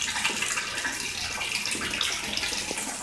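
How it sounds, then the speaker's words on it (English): Reptile tank water filter running loudly, a continuous rushing splash of falling water like a filling tub, steady and close throughout with no voices. "let me go ahead and turn the filter on for you guys so you guys can see how loud and obnoxious it is"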